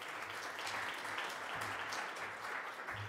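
Conference audience applauding an award recipient at an agribusiness awards event, a steady wash of many hands clapping from across a large room, moderately distant.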